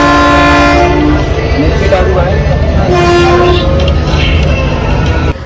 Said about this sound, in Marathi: आता निघाली आहे ट्रेन रोहा स्टेशनवरून.